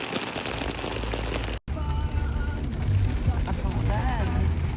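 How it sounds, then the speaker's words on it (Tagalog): Heavy rain pours steadily in a dense, hissing wash around a moving car on a wet road, with a voice speaking over it. "Ay, kasang ulan."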